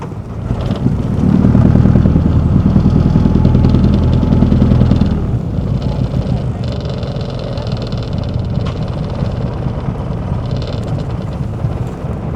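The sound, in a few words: motor boat engine approaching the shore of a dam lake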